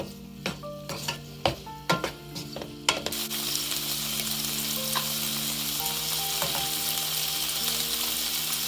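A spatula clatters and taps against a hot pan several times, then a sauce of white vinegar and honey for a tofu and vegetable stir-fry settles into a steady, close, hissing sizzle.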